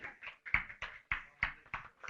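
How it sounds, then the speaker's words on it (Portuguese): A small audience at a health tutoring training session gives Pedro a quiet, sparse round of applause, with about seven evenly spaced claps. "tem uma salva de palmas novamente aqui para o Pedro"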